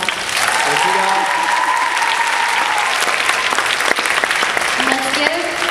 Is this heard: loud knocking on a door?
no